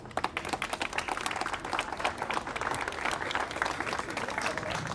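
Audience applause after a prosecutor's decision to lift a preventive measure, dense clapping from many hands filling the room steadily for the whole stretch, fairly loud and close with no pauses.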